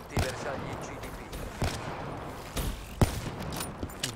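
Sharp gunshots in Call of Duty: Black Ops III crack at irregular intervals, about five bursts in a few seconds, under a continuous bed of game noise.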